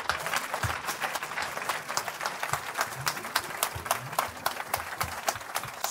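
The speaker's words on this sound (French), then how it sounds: "Let's give a hand clap to the Lord our God" A church congregation in Evry claps hands together, a dense, steady burst of applause from many people filling the room, with voices faintly mixed in.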